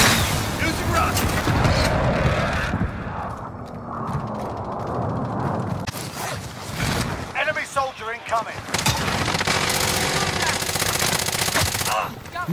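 Call of Duty Modern Warfare combat: rapid gunfire and booming rocket explosions in repeated bursts, with players talking excitedly over the chaotic battle noise.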